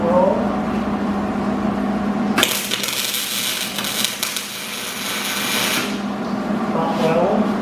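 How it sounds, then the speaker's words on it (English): A steel grill stand being spot welded to its base for a Weber Q propane barbecue, heard as a sudden dense crackling hiss lasting about three and a half seconds, with quieter shop noise before and after. "now we got to weld this to the base"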